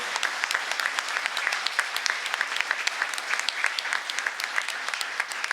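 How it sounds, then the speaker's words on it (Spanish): Sustained applause fills a hall at a feminism event honoring activists, dense, even clapping from a sizable crowd with sharp individual claps standing out, no speech over it. "El aplauso de nuevo."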